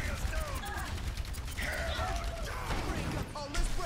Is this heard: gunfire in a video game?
yes